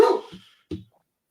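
A dog gives a short bark with a whimpering tail, then a second brief bark after a pause. Both are close and clear against silence.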